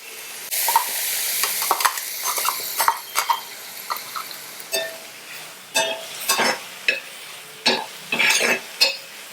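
Loud sizzling as a wet ground paste hits hot oil in a tempering for a vegetable palya, then crackling bursts and spatters that come and go while it is stirred in the pan.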